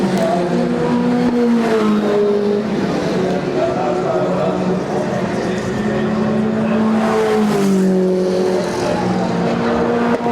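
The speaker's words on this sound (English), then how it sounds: "Back wheels locking up under braking there with down changing the down shifting" Formula Ford 1600 race cars at a historic festival, including a 1993 Van Diemen, braking hard with rear wheels locking and downshifting; loud continuous engine whine with shifting pitch, steady and close, with commentary voice over it.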